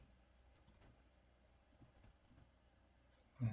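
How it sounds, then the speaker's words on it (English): Someone types a prompt on a computer keyboard, producing faint, quiet clicks and patter that run steadily for several seconds before a louder thump at the very end. "For example, I can type"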